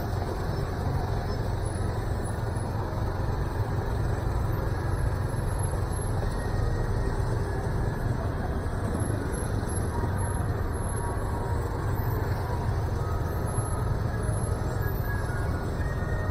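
Steady, dense traffic jam on a busy street near Malioboro in Yogyakarta, a continuous low rumble of idling and creeping engines with constant road noise, moderately distant and unbroken, with no distinct passing vehicle standing out.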